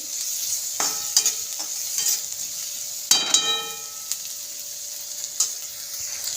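Mixed vegetables sautéing in butter for a wheat-flour Chinese roll filling, with a steady close sizzle and repeated sharp spatula scrapes and taps against the pan, no talking.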